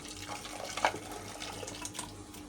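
Water pours into a pot of tamarind lentil rasam in a short splashing stream, close by and fairly quiet, with no voices.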